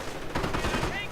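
Gunfire from an M8 armored car in a World War II real-time strategy game, a quick rattling burst of shots over muffled battle noise, fairly faint and brief.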